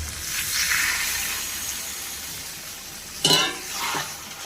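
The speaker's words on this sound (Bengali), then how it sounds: "এবার দিয়ে দেবো ভেজে রাখা মাশরুমগুলো দিয়ে এটাকে আর কিছুক্ষণ কষিয়ে নেব।" Mushroom masala being stirred and sautéed in a pan, a steady close sizzle with a sharper scrape of the spoon near the end, no voices.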